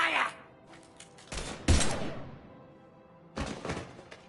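Gunfire in Mass Effect 3: a few bursts of shots and thudding impacts, the loudest near the middle, with another burst near the end and a voice at the start.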